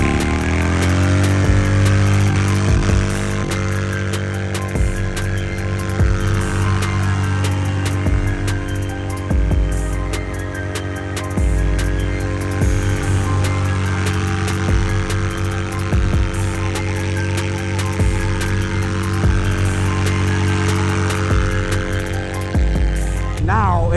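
A Harley-Davidson Milwaukee 8 V-twin fitted with an aggressive cam drones steadily while cruising on the highway, its deep throbbing exhaust constant and loud with slight swells in pitch, no voices.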